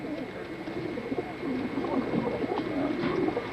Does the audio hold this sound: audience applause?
no